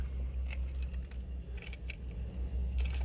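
A ring of keys jangles close by in short metallic bursts, shaken several times while the right key for a 1957 Chevrolet 3100 Stepside pickup is found, over a low steady hum with no talk.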